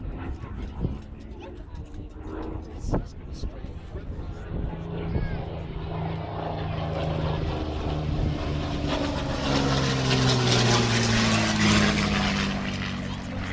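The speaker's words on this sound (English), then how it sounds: "British pilot once again flies over the battlefield just to observe the scene beneath them on the ground" A British aircraft passes over a staged Second World War battlefield at a living history display recreating the closing of the Falaise Pocket, its propeller engine drone rising steadily from distant to loud and sustained overhead.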